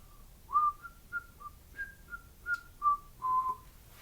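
Someone whistles a short, simple tune of about ten clear notes, close and alone, with brief pauses between phrases.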